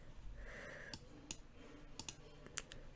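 A computer mouse on a Windows 10 PC gives a handful of faint, sharp single clicks spread irregularly over a few seconds in a quiet room.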